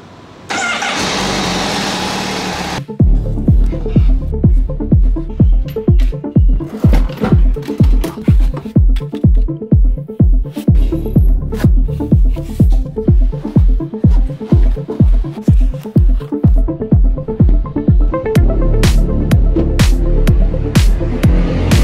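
A 2020 Honda CBR1000RR-R Fireblade motorcycle engine cranks briefly, then catches and settles into a loud, close, steady pulsing idle.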